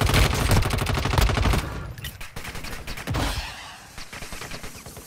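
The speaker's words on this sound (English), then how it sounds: "Stop shooting at me, bud." Gunfire in the mobile video game Warzone Mobile crackles in dense, rapid automatic bursts that are loudest at the start and then continue as scattered shots.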